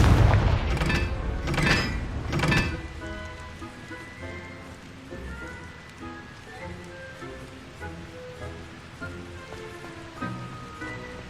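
A Confringo blasting spell goes off in a video game, giving a few loud booming bursts near the start, then a busy, crackling, lower-level stream of game effects and music.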